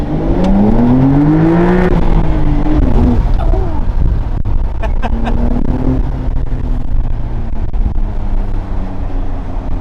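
2025 Porsche 911 Carrera T accelerating, loud engine note rising through the revs then dropping at a shift before climbing again, heard from inside the car with a steady road rumble.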